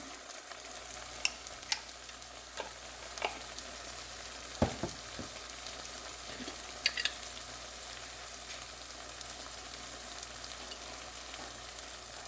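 Radish fries in oil with turmeric, giving a continuous low crackling sizzle dotted with light stirring taps and scrapes, quiet and near, no speech.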